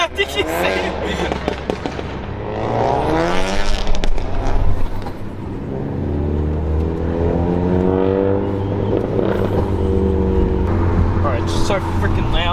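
A loud 500+ horsepower widebody RS car rips through Australian streets, its engine roaring and revving continuously with rising and falling pitch sweeps, sharp crackling pops, and voices talking over it.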